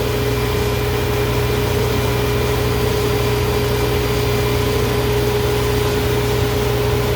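A coffee roaster's blower roars steadily while exhausting chaff from roasting Santino Supremo beans, a constant loud whooshing hum with a faint tonal whine, close and without speech.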